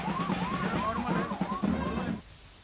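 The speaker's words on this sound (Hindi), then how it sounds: "राहुल गांधी ने एम्बुलेंस को जगह दी" An ambulance siren sounds along a crowded political march route, with rapid, loud, rising-and-falling wails repeating over street noise before cutting off abruptly.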